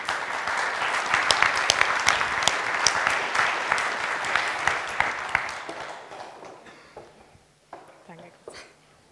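An audience at an evening political talk event in Germany applauds with dense, sustained clapping that gradually thins and fades out, leaving a few scattered claps and faint voices at the end.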